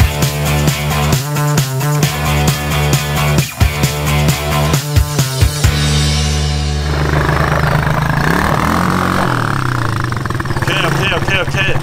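A quad bike carrying three riders, its engine chugging rhythmically up close before a steadier running drone with road noise, while voices talk over it.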